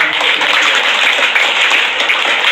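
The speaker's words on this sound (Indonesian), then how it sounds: "Kita berikan tepuk tangan." A dense, steady wash of applause from a crowd, loud and continuous throughout.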